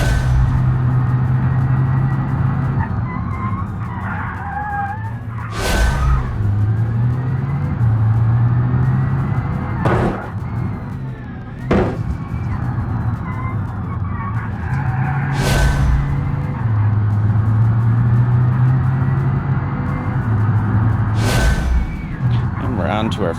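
Rally car in BeamNG held at full throttle, a loud sustained engine drone broken by several sharp impacts and bursts as it lands from jumps, with someone talking over it.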